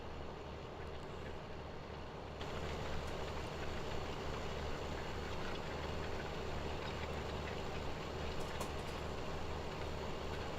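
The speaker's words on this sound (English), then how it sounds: "That's a pretty freaking big tractor." A large Case IH Magnum tractor engine in Farming Simulator 17 drones at a steady, heavy rumble throughout, growing slightly louder after the first couple of seconds, with no voices.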